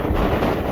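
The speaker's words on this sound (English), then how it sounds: "Oh, that got windy then." Wind buffets a microphone outdoors in a steady, loud rumble that fills the short moment, with no talking over it.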